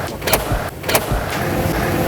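The door locks of a 2020 Mercedes-Benz G550 G-Class fire twice in quick succession, each a sharp mechanical clack close by, followed by a steady low hum.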